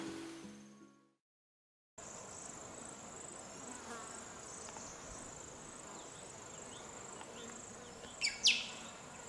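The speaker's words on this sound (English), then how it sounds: "It's an insect's paradise here." Insects buzz and chirp steadily amid towering cutting grass plants three to four meters tall, a continuous hum with a brief louder buzz near the end, no talk.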